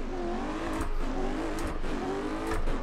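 Race car engine in a racing video game, held at a steady high drone with pitch sweeps as it shifts up through the gears, loud and close with no talk.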